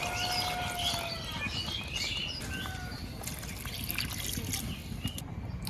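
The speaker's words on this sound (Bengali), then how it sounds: "এখানে পরিমাণ মতো জল দিয়ে দেবো।" Water poured into a pot of Kadaknath chicken curry, a steady continuous trickle and splash heard close, with birds chirping in the background throughout.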